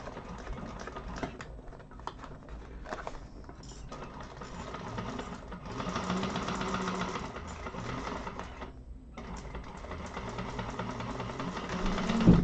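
A sewing machine stitches through vinyl for a vintage-style handbag, a close, rapid mechanical chatter running in bursts with short pauses, loud and alone with no talking.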